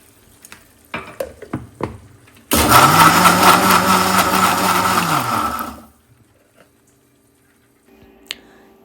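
A mixer grinder whirs loudly for about three seconds while coarsely grinding crabs, then winds down and stops, with a few clicks and taps before and after.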